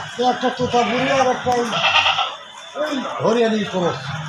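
Goats of the Totabori breed and a Haryana cross bleat again and again at close range, their calls overlapping in a busy farm setting while people talk over and between them.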